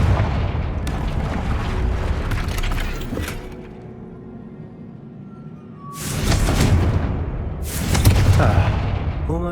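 A Confringo blast spell goes off in Hogwarts Legacy, a muffled boom followed by two broad bursts of crackling explosive noise, set against a low game soundscape with faint musical tones.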